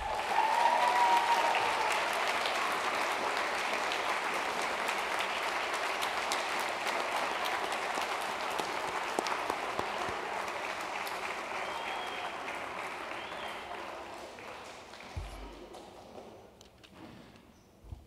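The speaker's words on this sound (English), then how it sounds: "Ladies and gentlemen, another round of applause." An audience at a town government meeting applauds, a sustained, even clatter of many hands clapping at moderate distance that gradually thins out and fades near the end.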